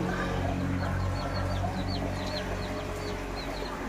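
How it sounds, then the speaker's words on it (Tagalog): Short clucking calls from chickens repeat over steady background noise, fairly faint and a little distant. "Ayan yung manok kapag nagaulan"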